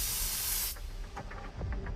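An aerosol spray can gives a loud, steady hiss for about three quarters of a second, then cuts off, leaving quieter room noise and faint knocks.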